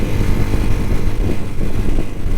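Vehicle engines labour up a steep mountain road near Babusar Pass in Gilgit-Baltistan, giving a loud, steady, close droning rumble with no pauses.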